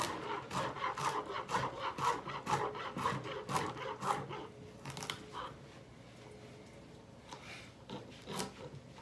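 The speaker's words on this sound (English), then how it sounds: "Chop off the unnecessary parts. Again, chop small." A knife chops a vegetable finely for vegan fried rice in quick, steady rhythmic strokes on a board. The strokes are close and moderately loud at first, then thin out into scattered, fainter cuts.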